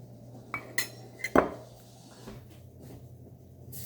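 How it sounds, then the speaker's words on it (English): A spoon stirs yogurt into orange-peel cake batter in a bowl, making a few sharp clinks against the bowl followed by soft, quiet mixing. "Stir in the yogurt."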